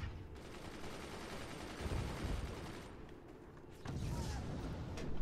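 Sniper fire and heavy gunfire in the game Forts during a 1v1 multiplayer match, a dense continuous crackle of shots that drops briefly and then resumes, quiet and unvoiced.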